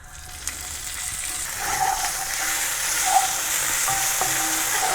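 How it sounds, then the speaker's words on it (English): Steady crackling sizzle of small seeds in hot oil, rising slightly in intensity, with a few faint clinks and no voices. "a teaspoon of cumin seeds. Let them sizzle up first"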